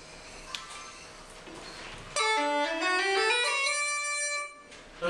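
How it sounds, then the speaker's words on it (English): An Uilleann pipes chanter plays a short bright run of reedy notes, loud and close, after a quiet stretch of room noise. "this is the chanter, and I'll just give you an idea of what it sounds like."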